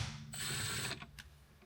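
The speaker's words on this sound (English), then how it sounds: "we can go ahead and remove the main center bolt" A ratchet turns the 16 mm center bolt of the steering wheel on a BMW F80 M3 in a brief burst of rapid, close clicking, followed by a few softer clicks.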